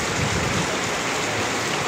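A steady, loud roar of heavy evening rain pouring down on a vegetable garden, dense and continuous with no voices.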